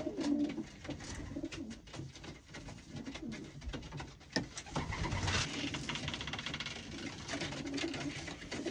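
Racing pigeons cooing softly amid a rustling, noisy background, with a brief engine-like rumble partway through.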